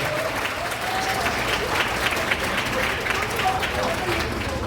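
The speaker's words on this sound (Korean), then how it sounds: "오늘 결혼식에 많은 박수 부탁 한번 드려보겠습니다." Wedding guests applaud steadily in a hall for about five seconds, a dense, even wash of clapping with brief voices breaking through.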